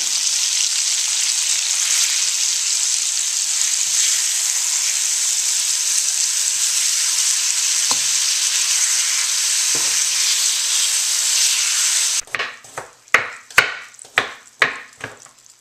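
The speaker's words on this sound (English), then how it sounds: "so I'm going to add the meat to the mixture. And I'm going to let that cook and coat the meat." Meat frying in smoking oil for a Thai-inspired gluten-free stir fry, a loud steady hiss of sizzling that gives way near the end to a quick run of sharp knocks and clatters, close and without talk.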